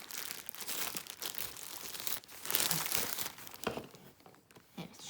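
A paid product box being opened, its packaging crinkling and tearing in close, irregular bursts of crackling that rise and fall, with no talk.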